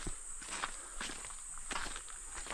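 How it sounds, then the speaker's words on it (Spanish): Footsteps tread slowly and evenly along a jungle path in Colombia, soft and close. A thin, high insect hiss runs continuously behind them. "Son nuestros pasos."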